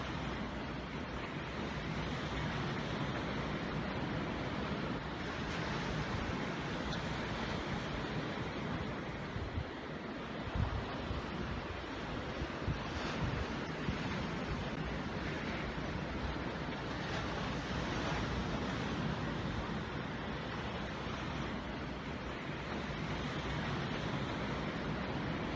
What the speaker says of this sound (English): let the sounds of the wave and the colors of the ocean take you away